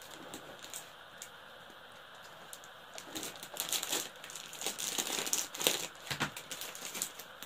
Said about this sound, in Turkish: Bu gıda malzemesini maylar poşetin içine koyuyoruz.